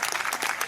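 Brief burst of golf spectators clapping after a shot, a dense patter of many hands, steady and fairly close, with no talk.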